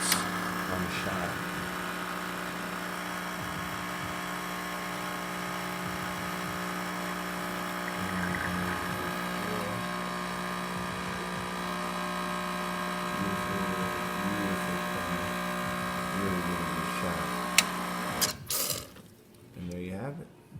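A Quick Mill espresso machine pulling a shot gives a steady pump hum with a faint watery trickle, close and continuous for most of the time before stopping near the end, with a voice briefly audible.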